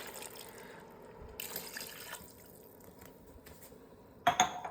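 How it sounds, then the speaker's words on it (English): Water is poured into an Instant Pot holding mixed vegetables and beetroot for pav bhaji. It sounds like a quiet, steady liquid flow with a brief clink of cookware near the end. "And then I need a 2 cups of water."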